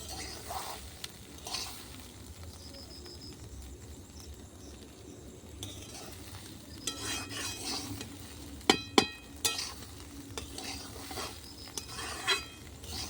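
Gobindobhog rice frying and being stirred in a pan over a clay stove, with soft continuous sizzling and scattered scrapes and clinks of a spoon against the pan, growing busier toward the end.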